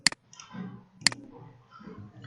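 Two sharp computer mouse clicks about a second apart while registering on a website, close and crisp, with quiet room noise and faint movement between them.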